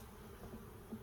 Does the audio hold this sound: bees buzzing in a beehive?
yes